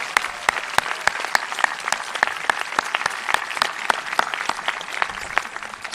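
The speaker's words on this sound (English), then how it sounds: "So please, a round of applause for the staff of Belmont High School." Audience applause for the staff of Belmont High School at an outdoor graduation ceremony on Harris Field, a steady wash of many hands clapping with sharp individual claps standing out throughout.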